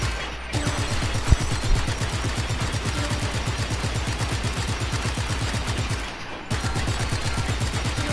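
Rapid, steady automatic gunfire from the open-world action game Just Cause 3, a continuous rattling burst that runs for about eight seconds with a brief pause near the six-second mark, loud and close with no talk.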